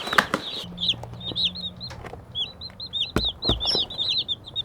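Baby chicks just arrived from McMurray Hatchery in North Carolina, a crowd of shrill peeps chirping continuously up close, with occasional soft scuffs and bumps from the shipping box.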